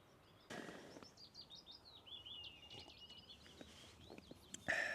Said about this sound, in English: You can hear the birds singing as well.